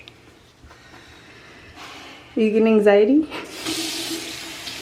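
Water running from a bathroom tap into a sink, a steady splashing hiss that grows louder partway through, close by, with people talking over it.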